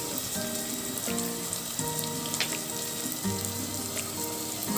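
Green chilies and curry leaves sauté in a pan with oil, giving a steady, dense sizzle and crackle throughout, close and even with faint clinks.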